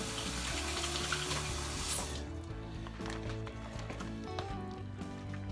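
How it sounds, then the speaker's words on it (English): Tap water runs into a sink for a quick hand wash, a steady close splashing that is loudest in the first couple of seconds and then eases to a softer flow. "Wash my hands real quick."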